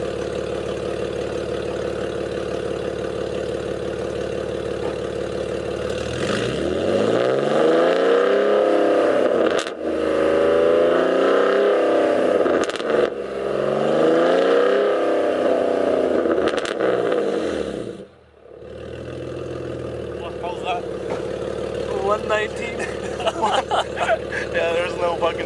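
A BMW E46 with its exhaust valve open revs from idle up to about 4000 RPM, rising and falling in loud repeated pulls, then drops back to a steady idle; nearby voices talk at times.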